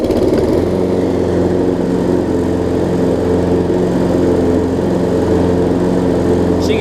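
A Toro Personal Pace lawn mower engine runs loud and steady close by with the blade engaged under load, its droning hum even and unbroken throughout.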